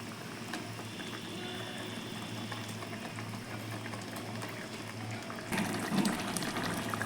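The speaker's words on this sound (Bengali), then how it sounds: "দেখো ঝোলটা ফুটছে এই অবস্থায় আমি মাছগুলো ছেড়ে দেবো" Fish curry gravy for doi pabda, a Bengali yogurt-based fish dish, bubbles steadily in a pan, a continuous close simmering hiss and burble that grows slightly louder near the end.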